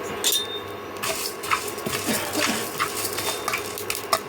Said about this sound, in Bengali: খুব লো আঁচে ভাজতে হবে, একদম লোতে।